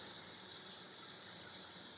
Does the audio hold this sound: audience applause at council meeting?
no